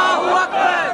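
A large crowd at a PTI political rally in Mehrabpur roars a slogan back in unison, a loud, dense chorus of many voices held for about a second with a brief dip midway.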